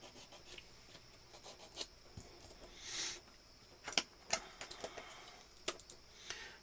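Soft scraping strokes of a flexible sanding pad working seam lines on a plastic Gundam model kit, a quiet close rasp in short uneven bursts with faint clicks, no talking.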